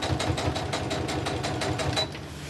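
A sewing machine runs steadily, stay-stitching along the edge of a crazy crumb quilt block, its fast regular needle rhythm loud and close for about two seconds before the motor eases off.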